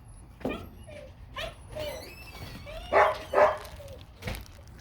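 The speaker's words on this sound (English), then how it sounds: "Sorry about the dogs barking." Dogs bark and whine in bursts, several sharp yaps mixed with higher whimpers, fairly close, with a brief background voice.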